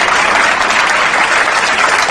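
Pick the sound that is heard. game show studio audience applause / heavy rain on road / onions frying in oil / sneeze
game show studio audience applause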